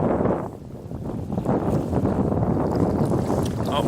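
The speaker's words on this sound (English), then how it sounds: "there's a bit of a breeze right now, so that's normal. If it sounds windy, I do apologize" A breeze buffets an outdoor microphone in Norway at night, a steady broadband rumble of wind noise that stays loud and continuous throughout, with a brief dip near the start.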